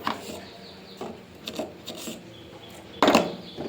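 Salt being rubbed by hand onto raw hilsa fish in a kitchen: soft, irregular scrubbing and gritty rasps, with a few light taps and a louder scrape near the end, close and alone.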